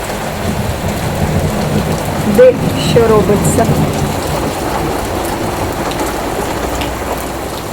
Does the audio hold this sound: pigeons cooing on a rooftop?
no